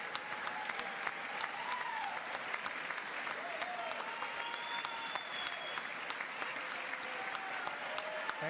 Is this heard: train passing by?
no